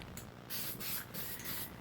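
A spray can coats an axe blade made from a crowbar, with its edges taped off, in several short, close hissing bursts separated by brief pauses.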